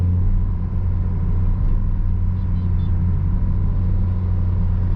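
Manual car engine in second gear running near 3000 RPM at a little over 20 km/h on a quiet road, a steady, loud low drone with constant rumble throughout.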